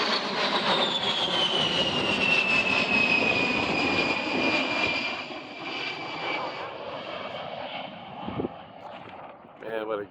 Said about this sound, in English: A-10. Man, what a great plane.